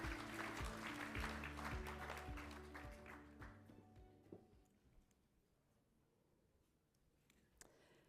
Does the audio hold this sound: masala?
no